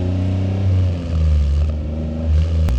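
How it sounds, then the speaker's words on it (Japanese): A Honda Beat's mid-mounted engine hums from behind while driving, a steady low drone that swells and eases with throttle over a few seconds, close and fairly loud. "後ろからエンジン音が聞こえるっていうのもやっぱ特徴的ですしね。"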